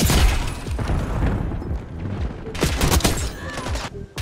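Enemy sniper and mixed gunfire in Black Ops 6, a dense fusillade of loud overlapping shots and booms filling the whole stretch, with a sharper cluster of cracks near the end.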